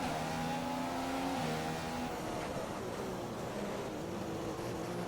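A Formula 1 car engine in a racing video game at Singapore whines with high, rising tones, then settles into a steady drone as the car runs down the straight.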